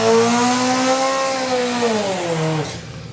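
Mitsubishi four-cylinder powered Suzuki Hayabusa drag bike at a drag racing national final, a loud high-revving engine sweeping upward through the gears, then the pitch drops and fades toward the end; no talk.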